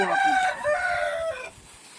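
Native country chickens on a poultry farm, where a rooster lets out a loud, close crow that rises and then trails off, with softer clucking from the flock underneath.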